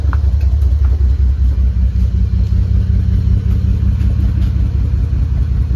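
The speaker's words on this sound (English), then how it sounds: "Seems to be idling pretty good, honestly. With an exhaust, it really helped." A red Toyota Supra with a new 3-inch stainless exhaust sits idling, its engine giving off a steady, close, low rumble with no talking over it.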